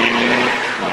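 A WRC rally car at Rally Bulgaria 2010 drives past on a special stage, its engine giving a loud, steady roar with a sustained tone that eases slightly toward the end, with no talk.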